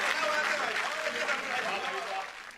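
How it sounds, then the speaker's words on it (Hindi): An audience at a comedy poetry show claps steadily for a couple of seconds, a dense wash of hands with some voices mixed in, fading at the end. "और तालियां बजाइए ना"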